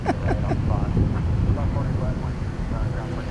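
An airliner lands at Dallas Fort Worth International Airport, a broad, steady engine roar heard from a distance through wind noise while people talk.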